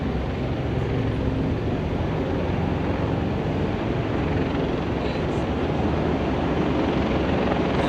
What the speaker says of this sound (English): There's a helicopter overhead, quite loud